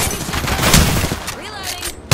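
Rapid gunfire in an Apex Legends firefight, repeated bursts of close, loud shots in quick succession with a sharp final crack, mixed with in-game voices.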